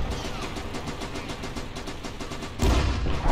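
Machine gun fire in the Arma 3 video game, heard as a rapid run of evenly spaced shots that ends in a heavier, louder blast.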